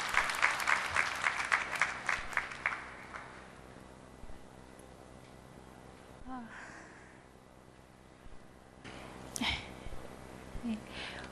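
Graduation ceremony crowd applauding in a hall, a burst of dense clapping that fades after a few seconds into room noise, with a faint voice and a few scattered sounds later.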